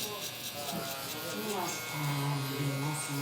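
A Gamma Plus Cyborg hair trimmer buzzes steadily while lining up a haircut, its electric hum running through the clip beneath a voice talking over it.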